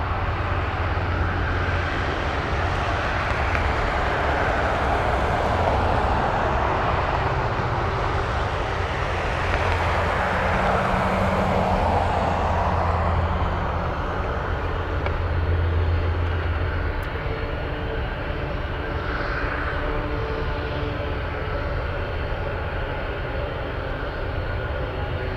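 A large cargo jet on approach at Anchorage airport roars steadily, a loud broad engine rumble with shifting whine that swells and slowly changes pitch as the plane passes, with no talk over it.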